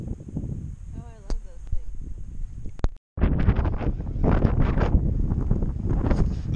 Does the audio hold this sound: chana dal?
no